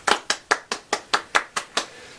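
Eight crisp hand claps ring out one after another at an even, brisk pace, close and clear with nothing else behind them.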